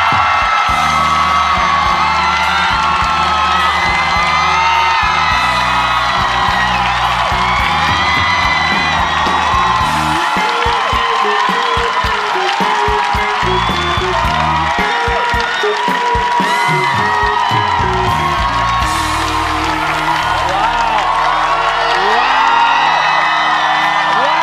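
A studio audience at a Taiwanese late-night talk show welcomes a guest, Taiwan's president Tsai Ing-wen, with loud, sustained applause and cheering, whoops rising over a music bed for the whole stretch.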